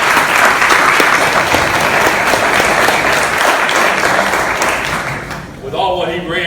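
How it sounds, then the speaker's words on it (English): An audience at an active shooter training session applauds Chief Seymour with loud, sustained clapping that fades near the end as a voice begins to speak. "Let's give Chief Seymour another round of applause."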